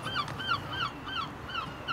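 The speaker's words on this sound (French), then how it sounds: "On entend des mouettes et les gens commencent à arriver." At dawn by the sea in Dieppe, Normandy, outside the Alpine factory, seagulls give repeated mewing calls in a loose rhythm over a soft background hum, moderately close.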